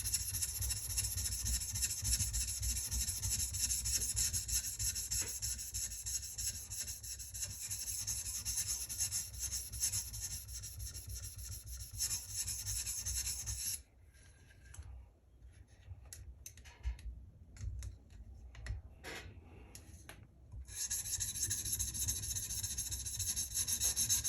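A knife is sharpened on a 220 grit stone in a TSPROF Kadet Pro sharpener, giving a steady, close, rasping scrape with quick repeated strokes and a short quieter stretch of lighter, broken rubbing before the full scraping returns.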